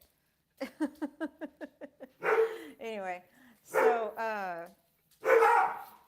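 A dog in a house at night gives a quick run of about eight sharp, evenly spaced barks, then people talk over the quieter room.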